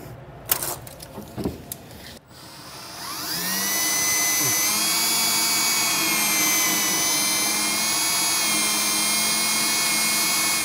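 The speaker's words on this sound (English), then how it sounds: "I'm going to go ahead and just drill out the holes with the pilot" A power drill bores pilot holes for a Curt custom fifth-wheel rail under a 2018 Chevrolet, a few knocks and clicks first, then a loud, steady high-pitched whine held without pause.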